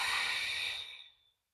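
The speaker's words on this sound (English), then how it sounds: "exhale always via the mouth." A single long, breathy exhale through the mouth during a postpartum core exercise, a steady close hiss lasting about a second before trailing off into silence.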